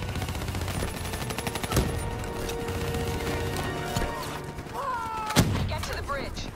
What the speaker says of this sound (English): Give me some cover fire.